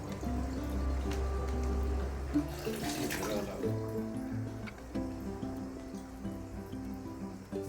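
Water poured gently into a newly bought home fish tank, a steady close trickle and splash running under a low hum, with people talking quietly at points throughout.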